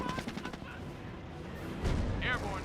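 In Company of Heroes, a Cromwell tank and a Vickers machine gun open fire: a quick run of sharp rattling shots up front, then a heavier thump and crash, with a faint voice mixed under the battle noise.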